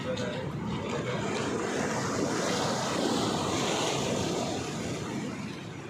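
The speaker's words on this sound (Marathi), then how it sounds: "अथांग समुद्राने" A steady broad roar of ocean surf on the Ratnagiri coast, waves washing continuously at a distance with no distinct breaks.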